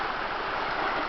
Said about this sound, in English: start of another hike at a nice big stream